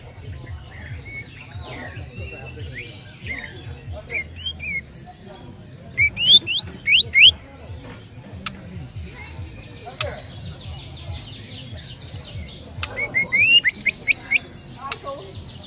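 A recorded canary sings in bright, rapid trills and chirps for training young magpie robins, its bursts rising and falling over a low background murmur, with louder rolling phrases near the middle and the end.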